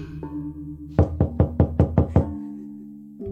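Knocking on a house door in a horror story, a sequence of about seven firm, evenly spaced knocks over a low sustained eerie drone.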